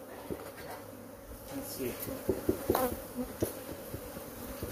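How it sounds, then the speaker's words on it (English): Agitated honey bees swarm and drone around an opened hive during a bee removal, a dense steady buzz with louder passes near the microphone while someone speaks briefly. "Bees are everywhere."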